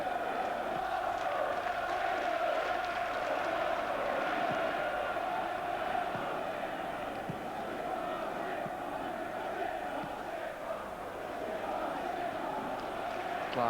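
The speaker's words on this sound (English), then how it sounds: "we've got a big ooh from the crowd as they've seen the replay here at Highbury" Football crowd at Highbury during an Arsenal v Newcastle United FA Cup quarter-final replay, a broad, steady roar and murmur that swells slightly as if reacting, with a commentator talking over it throughout.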